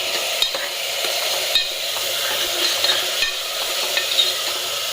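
Ginger-garlic paste sautéing in hot oil, a steady bright sizzle with occasional soft scrapes and stirring knocks, close and continuous.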